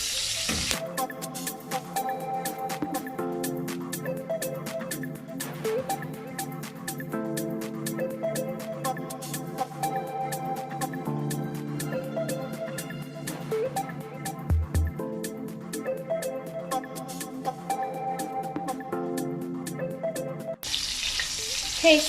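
Fish frying in hot oil, a continuous close crackling sizzle with dense sharp pops throughout, rising in bursts and holding steady for a long stretch, heard alone without talk.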